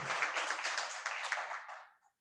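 An audience at a Delhi University lecture gives a burst of clapping that holds steady for about two seconds, then quickly dies away.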